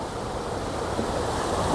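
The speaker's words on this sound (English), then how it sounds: "Check out the waterfall." Continuous rushing water from a waterfall at a riverwalk park in San Angelo roars at an even level, a broad hiss close by, with no voices.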